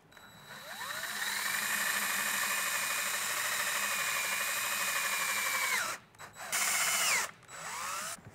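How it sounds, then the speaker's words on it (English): A power drill with a 1/4 inch bit boring holes through a template into a plastic radio bezel on a Toyota Tacoma: a steady, close whine for several seconds, then short stop-start bursts as it winds down and restarts. "Now we're going to take a 1/4 inch drill bit and we're going to drill out the other 4 holes here"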